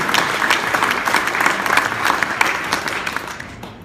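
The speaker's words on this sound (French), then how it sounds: "Je vous invite à l'applaudir une autre fois." A ceremony audience at the Paris Hôtel de Ville applauds in a sustained, lively burst that stays strong before tapering off near the end, with faint crowd murmur mixed in.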